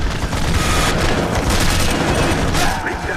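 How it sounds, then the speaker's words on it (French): Anti-aircraft batteries firing in the helicopter video game Choplifter HD: dense, loud rapid bursts and booms packed into a continuous barrage, easing off near the end. "ça c'est les batteries anti-aériennes."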